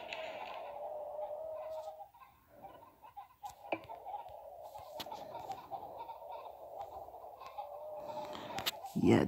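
Cartoonish chicken clucks from the mobile game Egg, Inc. repeat over a steady electronic tone, with sharp clicks and a brief lull midway before the clucking resumes.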